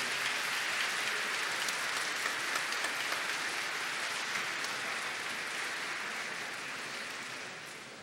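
At a formal medal ceremony in a state legislature, a hall audience gives sustained applause. The clapping is steady and crowded, then slowly fades toward the end.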